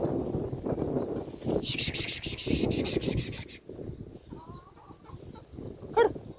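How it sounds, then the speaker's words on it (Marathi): Chickens cluck and squawk close by, with a burst of sharp high calls in the middle and a short cry near the end. "काय ह्या कोंबड्या वैताग देतात बाई नुसता"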